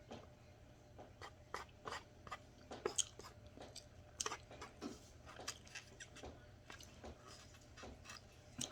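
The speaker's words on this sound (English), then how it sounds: "I have to try to open it sometimes so y'all can hear some smacking." Open-mouthed chewing of Tuscan chicken, a close, quiet run of wet smacks and clicks at an irregular pace over a low steady background hum.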